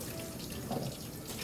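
Tap water runs steadily into a kitchen sink while a bowl is rinsed during Thanksgiving cooking, a continuous faint wash of splashing with no pauses.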